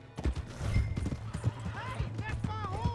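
Horse hooves clip-clop in a steady gallop in Red Dead Redemption 2, mixed with whinnies, under overlapping game dialogue and voices.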